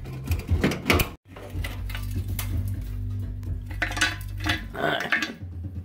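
Rusted bolts being worked out of the battery box on a GMC S15 truck, with close metallic clanks, scrapes and tool rattling over a steady low background hum, busy and fairly loud throughout.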